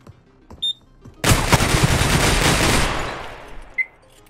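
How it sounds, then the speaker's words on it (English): Gatling gun firing in the video game Receiver 2, a loud sustained burst of rapid automatic fire lasting under two seconds before fading, with small clicks and beeps around it. "I do not recall there being a Gatling gun."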